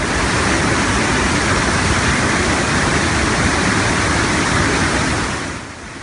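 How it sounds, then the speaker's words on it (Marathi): Water gushes through six opened dam gates in a steady, loud, dense roar that fills the whole clip and eases slightly near the end. "6 दरवाजे उघडून पाणी सोडून द्यावं लागलं."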